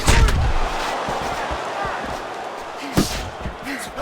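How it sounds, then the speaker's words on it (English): Boxing uppercut landing in Fight Night Champion, a single heavy thudding impact near the end of a short stretch of arena crowd noise, with a commentator speaking over it. "Oscar lands an uppercut on the inside."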